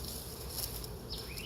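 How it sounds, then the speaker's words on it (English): Bees buzz softly in a steady, continuous drone, fairly faint and with no voices. "We definitely got the bees flying right now"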